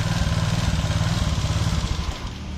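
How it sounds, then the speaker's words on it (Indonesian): A motorcycle engine runs close by at a fast, even idle, chugging with a rough, pulsing beat and no speech over it. "Suara mesinnya juga deg deg deg deg deg deg deg deg deg."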